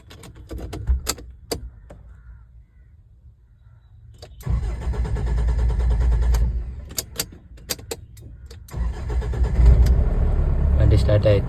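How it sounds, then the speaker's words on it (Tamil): Mahindra Bolero engine being started after flip key programming: clicks and key jangles, a cranking start around the midpoint, then a steady medium engine idle, revved again near the end, with someone talking throughout. "வண்டி ஸ்டார்ட் ஆகுது பாருங்கள்"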